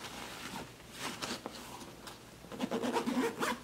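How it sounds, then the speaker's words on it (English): The front pocket of an Osprey Porter 46 travel backpack is unzipped up close, a raspy zipper pull with some fabric rubbing that grows louder near the end. No one speaks. "When you unzip this pocket on the very front of the bag"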